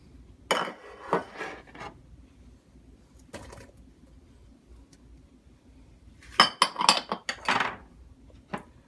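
Oil and diced onions go into a large cooking pot with clattering metal clanks and scrapes in short bursts, separated by quiet stretches, with a louder cluster of knocks later on.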